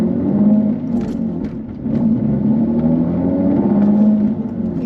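A manual Jaguar F-Type pulls away uphill in second gear after a slightly rough clutch lift, its engine humming and droning low and near, dipping briefly before steadying again.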